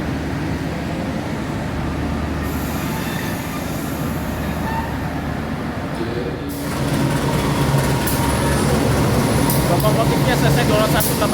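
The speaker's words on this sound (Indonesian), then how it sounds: "Kereta api Bangunkarta tiba di jalur 1 stasiun Pasar Senen" The KA Bangunkarta stainless steel passenger train, hauled by a CC 201 locomotive, arrives at Pasar Senen station with a steady rolling rumble and rail noise that swells louder partway through, with announcement-like talk in the background.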